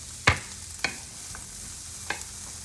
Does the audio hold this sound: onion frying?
yes